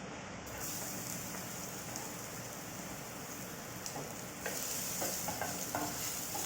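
Garlic frying in a little oil for an Indonesian chili paste, a steady, rain-like sizzle throughout that grows louder and brighter partway through, with a few faint stirring ticks.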